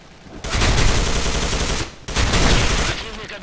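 Automatic rifle fire in a video game, two loud sustained bursts of rapid shots, the first about one and a half seconds long, then a brief gap and a second burst.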